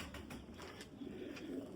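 Red Bull pigeons coo softly in low, repeated murmurs, faint and steady with a few light clicks and rustles around them.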